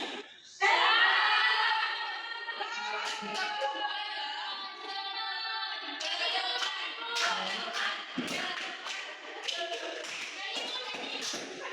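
Schoolchildren in an Indonesian classroom clap in a patterned rhythm while chanting along together, bursts of hand claps punctuating their voices.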